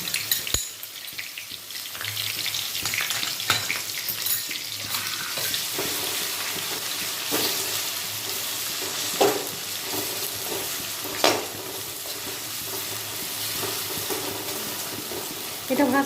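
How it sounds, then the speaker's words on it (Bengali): Ginger, garlic, onion and chili paste fries for chicken chaap, a loud close sizzle with scraping stirs and a few clinks, continuous throughout with faint talk in the background. "এটা ভাজতে হবে ভালো করে,"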